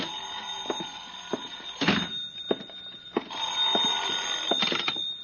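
In a radio drama, a telephone rings in repeated bursts over a faint, steady hum, with a few clicks and knocks in between.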